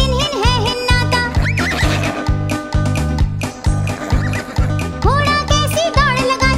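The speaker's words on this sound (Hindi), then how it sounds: "घोड़ा कैसी दौड़ लगाता, हिन हिन हिन हिन है हिन्नाता" A horse neighs in a Hindi nursery rhyme about riding a horse, its whinny rising over a bouncy musical backing with a steady beat, with more whinnies later on.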